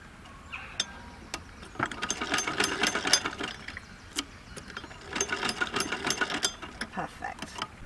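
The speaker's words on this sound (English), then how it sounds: "I'm just going to stitch like a centimetre seam allowance down there." A sewing machine stitching a one-centimetre seam on stretched ribbing for a bias-cut skirt, using a regular rather than a stretch needle. Its rapid mechanical needle clatter comes close up in bursts, with a voice faintly underneath.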